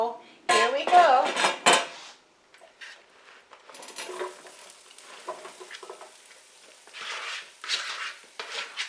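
Sausages and vegetables go into an air fryer basket, with sharp metallic clatters and rattles of the basket and utensils up close, then softer shuffling and tapping as the food is arranged.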